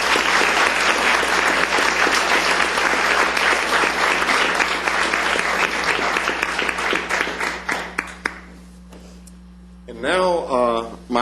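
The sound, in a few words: applause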